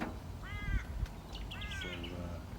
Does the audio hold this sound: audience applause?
no